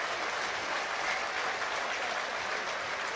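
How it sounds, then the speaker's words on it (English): A rugby stadium crowd at a Northampton Saints v Saracens Premiership semi-final stands and applauds departing player Ignacio Fernandez-Lobbe, a steady, distant wash of clapping with no distinct voices. "This is his last home game, receiving the applause."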